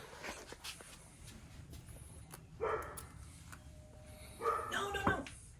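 A dog barks in a residential house, two short bursts of barking spaced a couple of seconds apart against a quiet room background.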